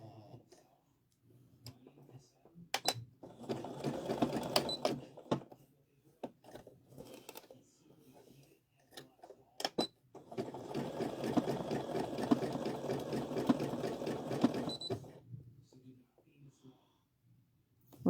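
A sewing machine stitches applique onto a dishtowel in two runs of whirring motor and needle clatter, the second longer, with scattered clicks and a person talking in the quieter gaps.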